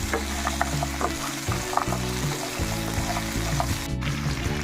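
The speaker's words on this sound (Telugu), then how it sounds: "ఇప్పుడు అన్నీ కలిపి ఒక టెన్ మినిట్స్ పాటు రోస్ట్ చేసుకుందాం లైట్గా" Green tamarind chutney ingredients roast in a pan, making a steady close sizzle with occasional stirring scrapes and spoon taps throughout, with no talking.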